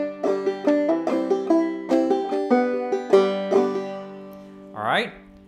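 Clawhammer banjo picks out a melody as a measured run of bright plucked notes with brushed strums, each ringing briefly, ending in a short sliding note alone.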